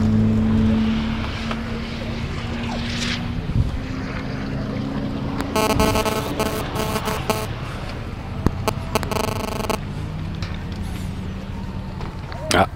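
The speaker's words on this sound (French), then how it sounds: "Alors là, on a le départ d'une petite Mégane RS." A Renault Mégane RS Trophy pulls away on the Circuit des Ecuyers race track at Beuvardes during a trackday, its engine a steady droning hum that shifts in pitch, heard at a distance under nearby talk and wind noise.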